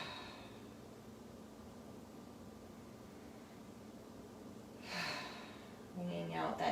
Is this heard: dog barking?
no